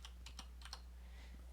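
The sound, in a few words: typing a password on a computer keyboard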